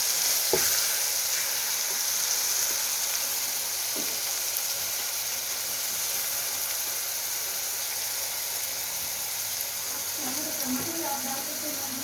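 Masala spices fry and sizzle steadily in hot oil for bhindi sabji, a continuous close hiss with occasional stirring scrapes and soft pops throughout.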